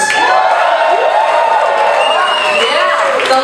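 An East Coast crowd at a comedy show at The Roxy roars and cheers loudly and continuously, with whoops and shouts rising above the dense wash of noise.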